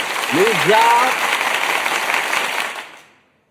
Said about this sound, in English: Where the hand clap at?